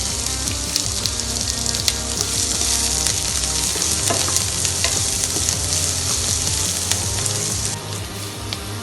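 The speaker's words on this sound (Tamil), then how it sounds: "வெங்காயத்தையும் போட்டு நல்லா வதக்கிக்குவோம்." Onions and capsicum sauté in an oiled pan for a vegetable cutlet, a loud, continuous close-up sizzle with occasional stirring scrapes and no talking.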